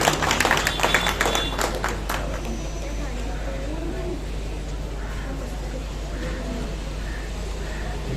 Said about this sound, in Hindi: मोहम्मद साद, जोरदार तालियों में इनका इस्तेमाल करें।